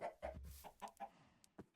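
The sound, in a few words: chickens clucking in video game Minecraft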